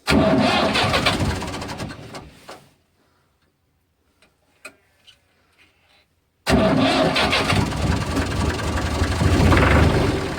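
The engine of a 1990 Massey Ferguson 255 turbo tractor, out in snow, runs loud and rough, cuts out into near silence with a few faint ticks, then abruptly roars back at full volume.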